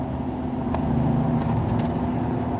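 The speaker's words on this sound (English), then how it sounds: "that car's exhaust is really annoying" A car's annoyingly loud exhaust droning nearby, a steady low rumble with brief high jingling sounds on top.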